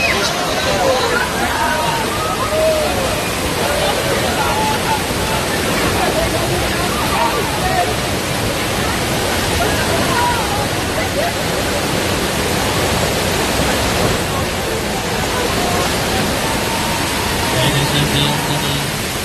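Sloshing, splashing movie water at a US film studio show rushes steadily and loudly throughout, with crowd babble and voices mixed under the continuous wash.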